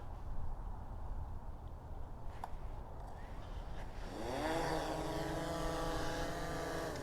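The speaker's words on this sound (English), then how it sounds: "Let's go ahead and take off and fly this drone around a little bit." A DJI Mavic 3 drone starts its propellers and lifts off outdoors, a faint rustling background giving way partway through to a rising, steady, buzzing whine that holds near the microphone.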